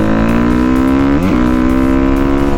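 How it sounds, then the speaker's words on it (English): A dirt bike engine holds a loud, steady high rev, then its pitch dips and recovers at a quick clutch gear shift, with the drone continuing throughout and no talking. "It'll sound like you're over revving it"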